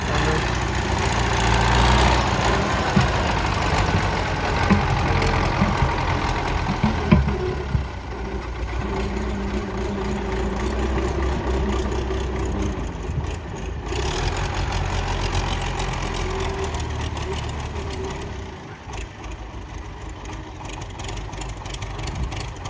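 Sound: tractor engine running

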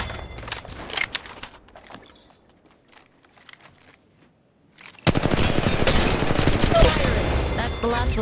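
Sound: gunfire in the video game Apex Legends

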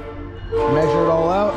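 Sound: passing train and train horn

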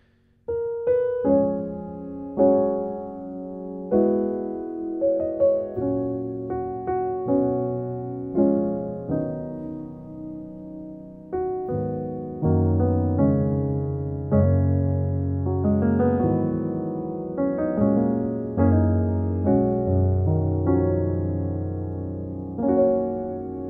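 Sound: piano playing a song introduction

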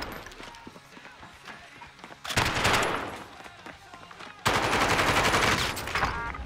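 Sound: gunfire in Call of Duty Warzone video game

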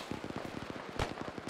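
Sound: machine gun fire in video game Arma 3

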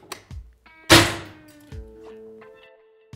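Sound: projectile shot at ESS CDI Max mil-rated sunglasses in impact test

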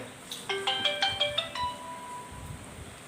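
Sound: phone ringtone

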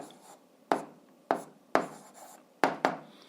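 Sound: writing fractions while solving an algebra exercise

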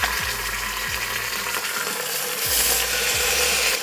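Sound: beef searing in avocado oil in Instant Pot

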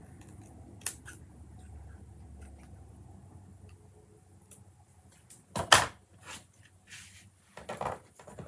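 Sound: scissors trimming paper

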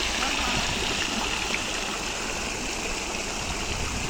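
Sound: flowing water by the stream

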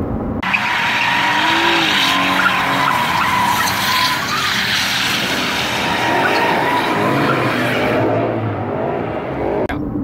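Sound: car doing burnouts with tire squeal

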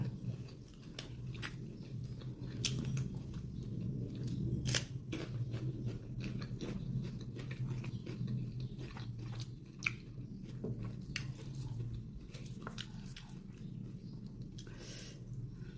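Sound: eating and chewing Thai pork intestine larb

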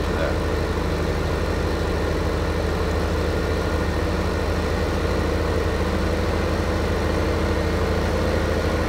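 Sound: tractor engine idling, from video game Farming Simulator 15

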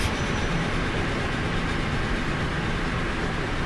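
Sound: steam locomotive passing in Transport Fever 2 video game

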